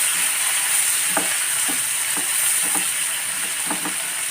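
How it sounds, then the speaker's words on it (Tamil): Green chillies, tomatoes and curry leaves sauté in a pan with a constant bright sizzle, punctuated by several soft spoon stirs, close and alone. "பச்சை மிளகாய், 2 தக்காளி, இதெல்லாம் போட்டு நல்லா வதக்கிடுவோம்."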